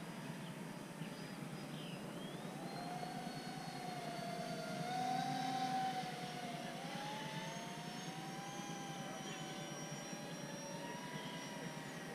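An FMS A-10 Thunderbolt II 70mm EDF radio-controlled jet flying overhead, a thin steady ducted-fan whine that shifts in pitch as it passes, swelling slightly midway and staying at moderate distance throughout.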